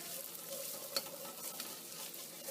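Onions frying in a pan for yellow lentil daal with fenugreek and spinach, a steady soft sizzle with faint scraping from stirring and one brief clink, fairly quiet and without talk.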